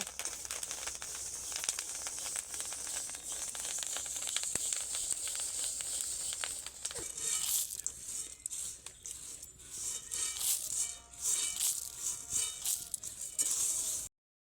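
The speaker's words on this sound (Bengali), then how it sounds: "আর বৌমা মুড়ি ভাজছে" Puffed rice (muri) is dry-roasted in a pan, giving a continuous dense crackling and rustling hiss of grains stirred over heat, steady and close throughout.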